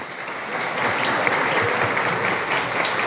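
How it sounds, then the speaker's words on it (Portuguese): An audience at a municipal food-kit handover ceremony claps in a dense, steady burst of applause, loud and close, filling the whole moment without any voices over it. "pode bater palmas"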